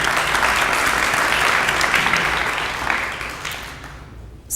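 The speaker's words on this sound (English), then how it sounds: "if we can give them a round of applause" Conference audience clapping in a sustained, dense round of applause that swells loud at first and then gradually thins and fades, with no talk over it.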